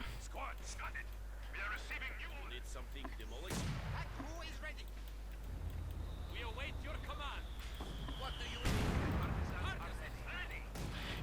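Katyusha rocket artillery barrage in Company of Heroes 2, a rumbling salvo of launches and blasts mixed with other battle gunfire and engine noise, heard under a game commentator's voice with a louder burst near the end.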